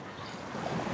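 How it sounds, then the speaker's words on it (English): Broadband rushing water, steady and fairly close, swelling slightly louder toward the end, with no voices. "you can hear the water under here"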